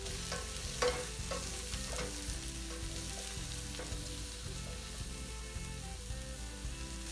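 Onions fry in oil in a pan for a vegan brown stew tofu dish, giving a steady, dense sizzle with occasional clicks of stirring throughout, and no voices.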